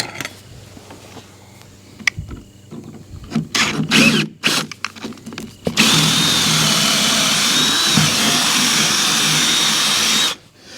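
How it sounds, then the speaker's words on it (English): A power drill bores holes through the wood of a self-serve firewood stand. Short bursts and clicks come first, then a long, loud, steady whine of drilling runs close by for several seconds before stopping. "So I'm going to get the holes drilled through here."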